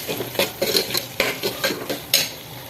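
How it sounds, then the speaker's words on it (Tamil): Masala with Kashmiri chili powder and garam masala being sautéed in oil for a soya dum biryani. Rapid, rhythmic metal spatula scrapes and clinks against the pan, close and fairly loud, with a faint sizzle underneath. "கரம் மசாலா எல்லாமே போட்டு நல்லா அந்த மசாலா அந்த எண்ணெயிலே கொஞ்சம் நல்லா வதக்கணும்"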